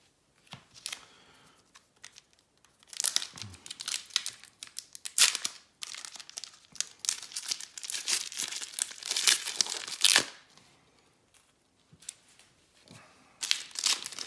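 Pokémon Brilliant Diamond and Shining Pearl card packaging, Elite Trainer Box and Ho-Oh box wrapping, is torn and crumpled open in sharp crinkling bursts separated by short quiet gaps, close up with no voices.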